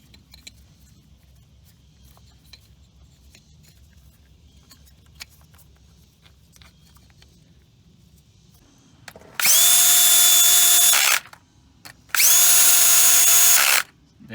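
Power drill snugging ignition coil bolts on a 2015 Chevrolet Equinox 2.4L engine, two loud close whirring bursts of about two seconds each after quiet handling clicks.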